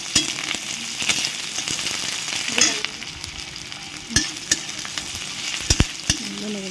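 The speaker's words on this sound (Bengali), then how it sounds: "মুড়িটা একটুখানি পেঁয়াজ, কাঁচা লঙ্কা আর কালো জিরে দিয়ে একটুখানি ভেজে নেই তেল দিয়ে" Puffed rice frying in oil with onion, green chilli and nigella seeds, giving a steady close sizzle broken by sharp stirring scrapes and clinks of a utensil against the pan.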